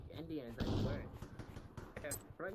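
Pistol shots in the VR shooter Pavlov VR ring out in a few loud sharp bursts, the biggest near the start, with someone talking over and between them.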